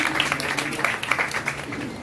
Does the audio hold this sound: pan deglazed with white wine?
no